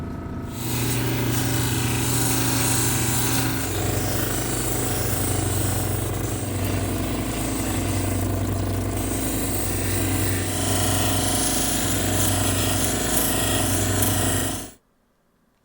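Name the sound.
polishing a Petoskey stone sphere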